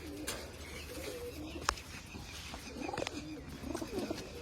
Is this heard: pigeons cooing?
yes